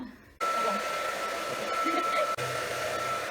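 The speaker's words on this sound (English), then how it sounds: "So we're going to use a hair dryer." A hair dryer switches on after a brief quiet moment and blows steadily with a constant whine, dipping briefly near the end before continuing.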